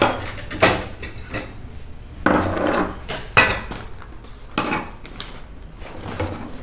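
Dishes and cutlery clinking as fried puffed pani puri shells are arranged onto a plate, several sharp separate knocks and clatters with quiet pauses between them, close by.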